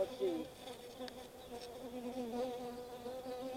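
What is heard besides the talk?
honey bees buzzing during a beehive inspection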